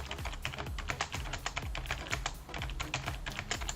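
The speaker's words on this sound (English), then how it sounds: "I'm just struggling while I'm typing on the wheel here" Rapid, continuous typing on a computer keyboard, close and clear, with dense irregular key clicks running throughout and no voices.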